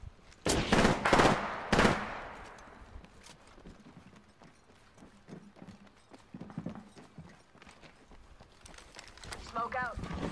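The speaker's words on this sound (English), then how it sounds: "Firing." Gunfire in Apex Legends: several loud, close shots at the start, then quieter scattered shots and clatter, with voices talking over the action.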